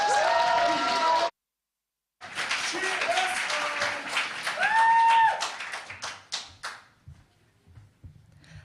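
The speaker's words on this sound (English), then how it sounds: "Give them a massive round of applause." A crowd at a teen gala poetry slam claps and cheers, then falls briefly silent before the applause resumes and tapers off into scattered claps.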